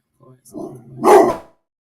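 Pet dog Barky gives a single short bark near the end, following a stretch of speech and faint vocal sounds.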